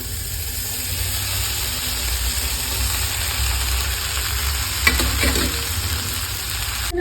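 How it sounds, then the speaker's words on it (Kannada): Vermicelli being tipped into a pan of frying tomato and stirred, a steady close sizzle with a brief clatter of scraping near the end and no talking. "ಶಾವಿಗೆನ ಈಗ ಇದಕ್ಕೆ ಸೇರಿಸ್ಕೊತಾ ಇದ್ದೀನಿ"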